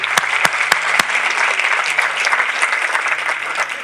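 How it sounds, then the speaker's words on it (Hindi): A church congregation claps together in steady, loud applause, a dense wash of hand claps lasting throughout, with a few sharp louder claps near the start. "आइए इस बहन के लिए ताली बजाएं।"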